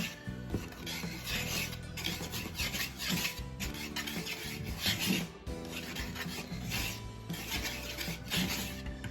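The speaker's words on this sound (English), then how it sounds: "And then you'll just want to whisk those together." Dry ingredients with a teaspoon of baking powder stirred with a whisk in a bowl, a steady continuous scraping and rubbing that runs close and fairly loud for the whole stretch, with no talking.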